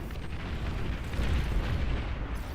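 Explosions rumble through a massive battle in the real-time strategy game Beyond All Reason, a dense, continuous barrage of low booms and blasts, steady and loud with no talking.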